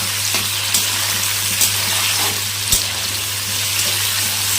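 Large broccoli florets frying in a pan with a little salt, a constant close sizzling hiss with a few soft pops and one sharp clink near the end.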